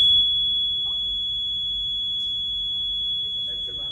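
An alarm emits a steady, high-pitched electronic tone that holds continuously throughout, loud and unbroken, with faint background noise beneath it.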